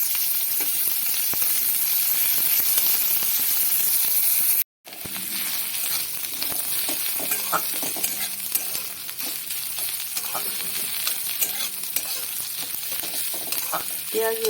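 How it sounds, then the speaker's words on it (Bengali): Chopped garlic and onion with black cumin fry in hot oil, a bright, continuous sizzle with stirring scrapes; a brief silent gap interrupts it early, then the crackling resumes with occasional clinks. "এবার দেব আমি রসুন কুচি আর পেঁয়াজ কুচি, সব একসঙ্গে ভাজা ভাজা করে নেব"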